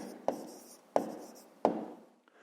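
Pen writing an answer to a fifth-grade math exercise on paper, three quiet scratchy strokes spaced evenly, each starting with a sharp tap and trailing off, close and alone.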